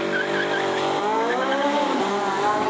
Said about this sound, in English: Oh, that is acceleration unlike anything else.